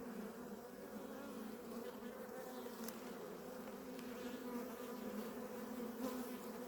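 Honey bees from an open hive hum in a steady, dense buzz throughout, a continuous close drone with slight swells and no voices.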